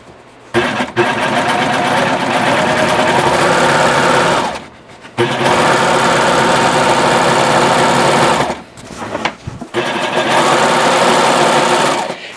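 A serger sewing machine stitches a beach tote bag in three long, steady, loud runs up close, broken by two short pauses, with no voices.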